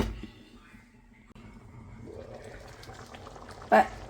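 Low, steady bubbling of a prawn curry simmering in a pot on the stove, a soft continuous gurgle with one brief louder clatter near the end.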